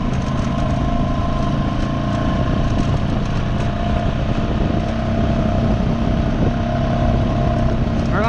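Honda 420 ATV engine running steadily through a creek, a loud continuous droning rumble with constant noisy wash and no pauses across the clip.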